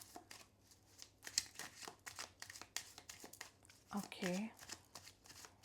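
Tarot cards shuffled by hand in quick, rapid riffling bursts, fairly quiet and close, with a brief spoken word partway through.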